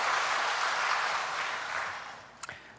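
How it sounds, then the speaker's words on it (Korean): A church congregation at an early-morning revival service clapping together, a dense wash of applause that slowly fades over a couple of seconds and ends with a few sharp claps. "하나님께 영광의 큰 박수 하겠습니다"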